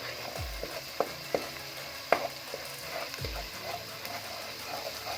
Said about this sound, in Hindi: ये देखिए मसाला भी हम भून रहे हैं अच्छे से।